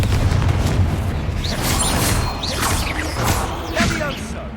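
A Confringo spell explodes in a tomb in Hogwarts Legacy with a fiery boom, followed by crackling debris and whooshing bursts under a rumbling, noisy wash.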